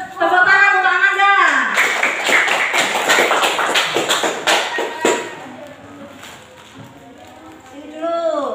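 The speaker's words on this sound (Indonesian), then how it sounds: "Tepuk tangan untuk Amanda." Classmates clap for a student named Amanda as she is called up for a prize in a school classroom: a burst of scattered, quick hand claps lasting a few seconds, with a teacher's voice before it and talk trailing after.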